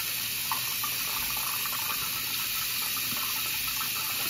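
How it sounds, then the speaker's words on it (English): Water running steadily from a bathroom sink tap while a face is rinsed, a continuous close hiss and splash with faint splashing bursts and no talking. "so I'm rinsing my face"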